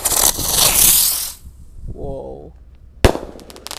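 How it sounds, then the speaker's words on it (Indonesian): Roman Candle Ski Cruiser firework fires with a loud crackling whoosh, then fades; someone speaks briefly, and a sharp bang near the end opens another burst of crackling. "Lanjut kita nyalakan mercon Roman Candle Ski Cruiser."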